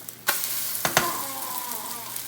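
Egg foo young sizzles loudly in a pan just after being flipped, opening with a sharp thump and a couple of quick clatters before settling into a steady frying hiss.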